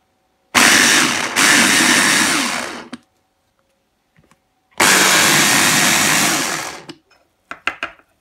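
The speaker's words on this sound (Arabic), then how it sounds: "غادي نميكسيه شي شويه كما كتشوف، غادي نطحنو شي شويه." Electric mixer blending flour and water into a batter for Moroccan baghrir, two loud close whirring bursts of a few seconds each separated by a pause, then a few brief clicks and knocks.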